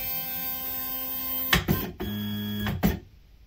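AlgoLaser Alpha 22W laser engraver powering on by key: a steady electronic hum, then a sharp click and clunk, a shifted tone with fan and motor whir, another click, and quiet after.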